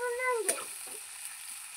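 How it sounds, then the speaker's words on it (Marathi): Steady sizzle of onions frying in a hot pan, with a short wavering tone at the start before the hiss settles. "कांदा चांगला ब्राऊन होईस तोपर्यंत तळून घ्यायचा आहे"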